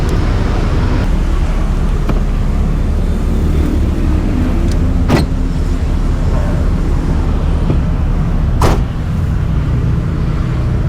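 A 1992 Daihatsu Zebra Turbo S89 drives along, its engine and road rumble running steady and loud throughout, with two brief sharp knocks cutting through midway and near the end.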